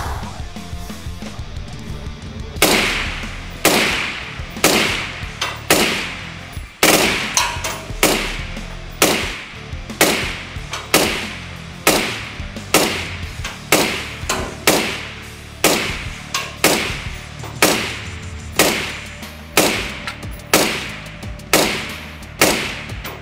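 Suppressed 5.56 NATO rifle shots through a Troy Kryptos suppressor, about twenty sharp cracks fired at a steady pace of roughly one per second, each with a short decaying tail.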